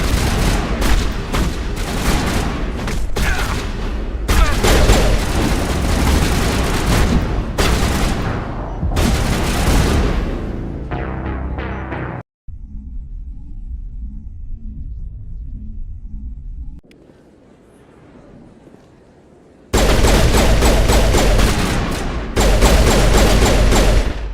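Mass Effect firefight gunfire: dense, loud bursts of rapid shots and booming impacts for about twelve seconds, then a lull of low rumble and quieter noise before heavy firing resumes near the end.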